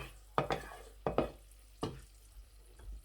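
Garlic frying in a pot for red lentil soup, cooked to light brown, with a few sharp stirring scrapes and clatters over a quiet background sizzle.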